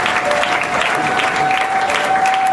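A church congregation applauds steadily, with dense, loud clapping that fills the hall evenly from start to finish, and a sustained tone runs underneath.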